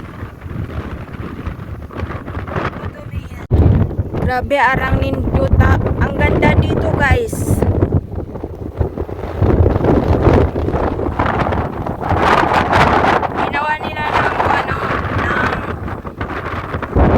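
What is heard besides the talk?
strong wind blowing by the sea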